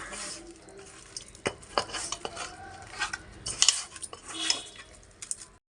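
Fish being mixed by hand with salt and spices in a metal pot, close up: a run of soft scraping, clinking and wet squelching knocks, irregular and fairly quiet, with no talking.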